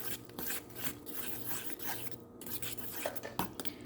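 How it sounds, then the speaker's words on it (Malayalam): Banana ball mixture of mashed banana and a pinch of salt being mixed by hand in a bowl, giving soft continuous rubbing and squelching with occasional scrapes against the bowl, close and fairly quiet, with no talking. "ഇനി അതും നമുക്ക് നന്നായിട്ടൊന്ന് മിക്സ് ചെയ്യാം."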